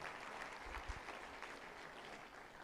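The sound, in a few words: audience applause for young Nigerian doctors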